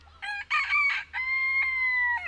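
A rooster crows loudly and close by in a farm coop shared with eight hens, one long drawn-out cock-a-doodle-doo with a steady low hum beneath it.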